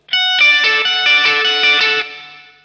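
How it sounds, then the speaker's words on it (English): Distorted electric guitar picks a quick run of notes that smear together through delay, then the sound cuts and a short echo fades out. "with a distortion and delay, it's gonna get a little chaotic"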